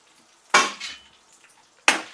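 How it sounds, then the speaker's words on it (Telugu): Dried red chillies crackle in a hot, dry kadai: two sharp, loud bursts of frying noise close by, with a softer sizzle in between, and no talking. "చూసారా మనకి ఎండుమిరపకాయలు ఫ్రై అవుతున్నాయి"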